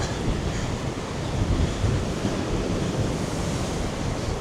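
Storm winds roar across a Tenerife coast with ocean surf, a steady, dense rush of wind buffeting the microphone over the continuous wash of waves.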